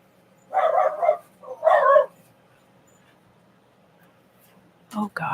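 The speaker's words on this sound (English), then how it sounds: "The dogs are just stirred up," Dogs bark in two short clustered bursts some distance off, followed by quiet and then the start of another yelp at the end, with a voice present nearby.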